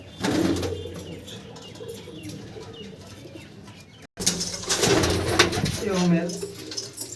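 Tournament racing pigeons coo softly in short low bursts close by, with fluttering and handling sounds, while people talk between the calls.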